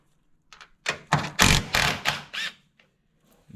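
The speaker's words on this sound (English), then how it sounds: "We're just gonna loosen these top three top hat bolts." A ratchet turns the top hat bolts loose on a G37 sedan's Rev9 coilover, a quick run of close mechanical clicks and clunks in about six bursts.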